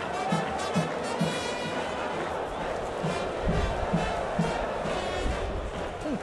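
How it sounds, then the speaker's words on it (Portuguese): A lively football crowd fills a stadium at a Brazilian Série D semifinal, with dense continuous crowd roar, chanting and scattered bursts, steady and loud throughout. "Torcida animada, muitos fogos e a execução do hino nacional."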